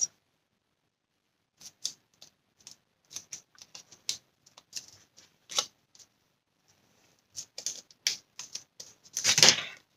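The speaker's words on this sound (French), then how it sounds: "Et maintenant, on coupe ce qui dépasse." Scissors snipping off excess material while a Christmas bauble is being crafted, a series of quiet, close, irregular clicks and snips, clustering into a louder burst near the end.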